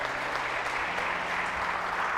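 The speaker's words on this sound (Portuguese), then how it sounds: "dá um aplauso a Jesus." A church congregation applauds during a sermon, giving steady, sustained clapping from many people throughout, with no speech over it.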